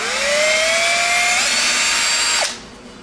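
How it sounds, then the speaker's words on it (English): A power drill bores a 1/8-inch hole through a metal hinge pin on a Peg Perego Gaucho ride-on toy, whining loudly with its pitch climbing as it works, then spins down and stops. "after we drill an 1/8-inch hole through the pin"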